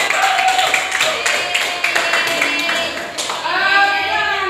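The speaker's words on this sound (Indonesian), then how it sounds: "tepuk tangan ya untuk semuanya" Students in an Indonesian classroom clap their hands together, a continuous patter of clapping with voices talking over it and a louder burst near the end.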